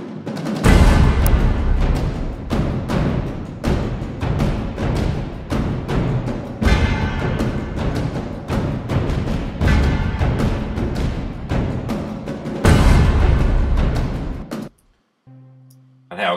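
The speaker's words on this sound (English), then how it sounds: "and a big percussion section" An epic orchestral percussion section built from sample libraries pounds out heavy, booming drum hits and sharp repeated strikes in a driving rhythm, loud and dense, with brief pauses before it stops and a short quiet tail.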